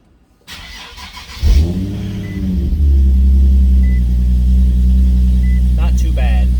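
A car engine cold-starts late at night around 1:30 a.m.: a short cranking burst, then the engine catches and settles into a loud, steady low idle rumble close by, with a faint voice near the end.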